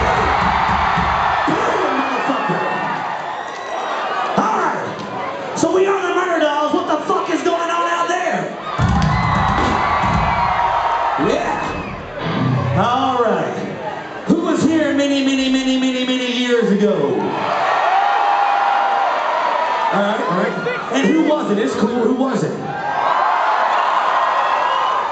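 A packed concert crowd at a show at Manchester Academy cheers, whoops and shouts loudly and continuously, with a frontman's voice booming over the roar in between.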